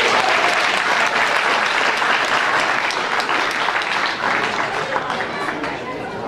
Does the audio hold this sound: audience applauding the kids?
yes